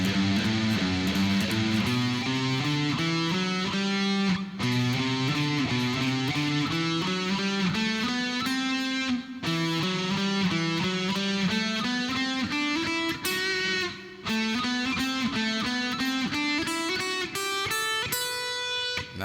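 Guitar runs through ascending scale patterns in a practice exercise, notes climbing steadily in an even rhythm with brief pauses between phrases; played alone, close and clear.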